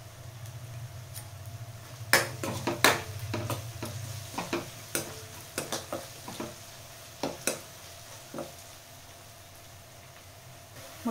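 Ginger garlic paste and turmeric frying in a pan for a spicy chicken fry, with a steady low sizzle under sharp scraping knocks of a spoon stirring against the pan at an irregular pace.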